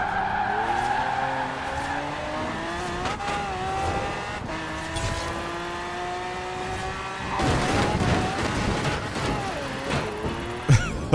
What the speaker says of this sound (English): this is the fastest accelerating car in Horizon 4